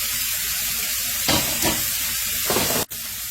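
Steaks, cooked medium well, fry loudly and close in a hot pan with a dense, continuous sizzle that surges in bursts as they are flipped, then settles back into a steady hiss.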